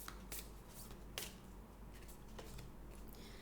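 Moonology Oracle cards are shuffled by hand, quiet crisp riffling bursts recurring several times over a soft room hiss, with no talking.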